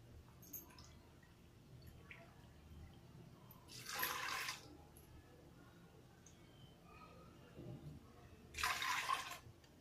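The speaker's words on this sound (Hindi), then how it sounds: "फिर हम इसके अंदर डाल देंगे 4 कप पानी।" Water pours into a pressure cooker holding lentils in two brief splashing bursts a few seconds apart, over a quiet room background.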